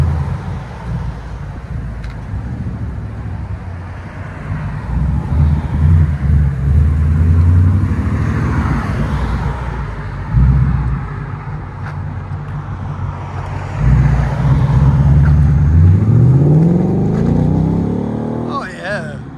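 A Ford Mustang GT with the Coyote 5.0 V8 and a fully straight-piped exhaust, idling with a deep rumble, then revving in rising and falling sweeps, loud and close, with a voice heard at times.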